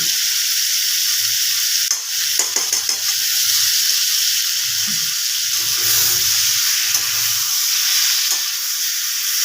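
Ghee sizzling steadily while dalia khichuri fries in a pan, a loud continuous hiss with a few stirring scrapes and clatters through it, no voices.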